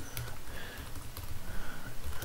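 Quick, light keystrokes tap on a computer keyboard while entering text into a spreadsheet cell, a soft, close, irregular patter of clicks over a quiet room hum, with no talk.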